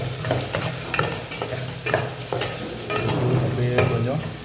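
Steady, loud sizzling of spices tempering in hot oil for a drumstick thokku, with occasional stirring scrapes and pops throughout.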